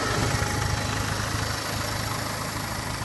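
A 1956 Farmall Cub tractor engine idles steadily nearby, a continuous low chugging rumble with a faint vibration and no talk over it.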